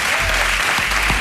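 Dense, loud studio audience applause on an Italian radio programme, a steady wash of clapping with a brief burst of cheering near the start, close and continuous throughout.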